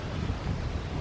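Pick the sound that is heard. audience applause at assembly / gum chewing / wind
wind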